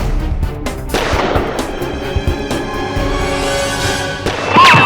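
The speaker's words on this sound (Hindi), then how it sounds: "जिस समय मैंने गोली चलाई, ठीक उसी समय बिंदिया ने भी गोली चलाई।" Several sharp gunshot cracks in irregular succession, with a dense rumbling, echoing background throughout.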